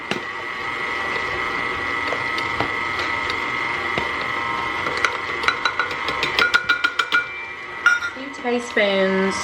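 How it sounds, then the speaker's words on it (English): A mixer whirs steadily while blending a stick of butter with cream cheese in a bowl, its motor tone broken near the end by clattering taps and scraping of the beaters against the bowl. "Let me get those blended."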